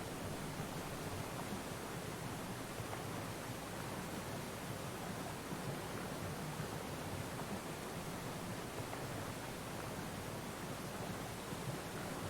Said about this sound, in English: Roaring Falls. I love it.